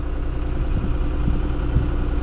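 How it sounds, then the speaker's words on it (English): A 58-horsepower 5320 utility tractor engine idles in a field, a steady low droning hum with faint rhythmic pulsing, fairly loud and unbroken, with no one speaking. "But, uh, pretty nice tractor, I think."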